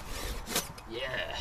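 A Silky pull saw cuts through timber on a hand-tool Viking house build, giving a close, raspy stroke with a sharp burst near the middle, under low background noise.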